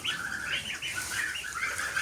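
Around forty ducks of an old Polish breed with white chins, kept on a farm, call and chatter steadily for the whole stretch, with no voices over them.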